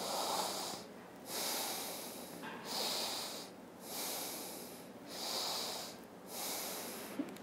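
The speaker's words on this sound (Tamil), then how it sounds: "மெதுவாக மூச்சை உள்ளழுங்க, மிக மெதுவாக மூச்சை வெளியே விடுங்க ஒரு 3 முறை." Slow, deep breaths during a yoga session for women recovering from a cesarean, heard alone as three long inhale-exhale cycles with audible airflow and short pauses between them.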